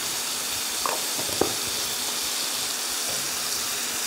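Ginger garlic paste frying in oil with golden onions in a pan for ghugni, a steady broadband sizzling hiss with a few faint pops and scrapes, close and continuous, no talking.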